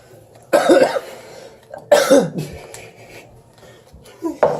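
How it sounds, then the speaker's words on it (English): A person coughs in harsh bursts, two strong fits a second or so apart, then a fainter cough, during a casual card game with rustling and handling noises between them. "you've been coughing so much"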